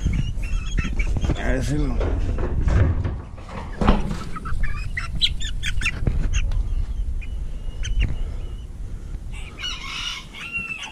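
Small miniature hen and rooster chickens call and cluck near someone speaking Spanish, with a rooster crowing partway through and bursts of clucking under the talk.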